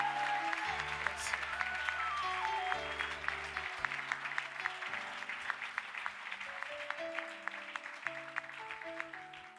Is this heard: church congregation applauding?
yes